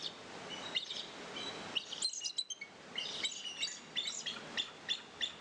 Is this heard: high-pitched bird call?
yes